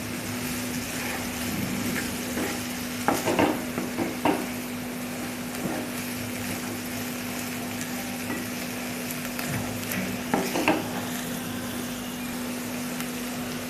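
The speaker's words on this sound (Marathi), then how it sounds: "आता यामध्ये आपण फ्लावर टाकून घ्यायचं आहे. मिक्स करून घ्यायचं आहे." Cauliflower florets stirred into vegetables frying in a pan for a cauliflower and green pea dish, giving a steady sizzle with scattered scraping stir clatters, close and continuous with no talking.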